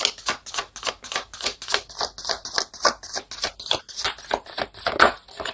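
Tarot cards shuffled in quick, evenly spaced riffling bursts, a close, crisp papery flicking that repeats steadily throughout, with brief higher tones partway through.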